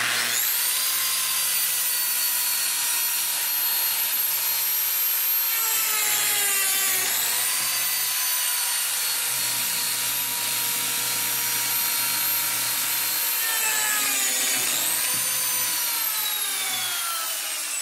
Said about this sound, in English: so I'm just going to leave my settings on the Zeta the same and make my slots